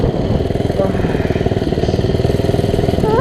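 A minibike engine running with a slipping clutch, a loud, close, rapid buzzing putter with an even pulsing rhythm that barely changes pitch.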